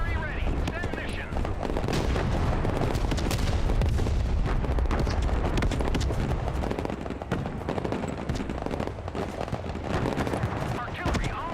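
Dense, relentless artillery and machine-gun fire from the Broken Arrow war game, loud and continuous with overlapping booms and rapid bursts, with speech mixed into the battle din.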